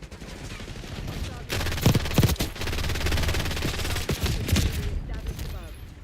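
Sustained automatic gunfire in Call of Duty Black Ops 6, a dense, loud rattling stream of rapid shots with a few sharper cracks, cutting off abruptly near the end.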